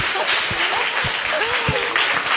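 An audience at a GNZ48 Team Z stage event applauds in a dense, steady wash of clapping, while a voice speaks over it.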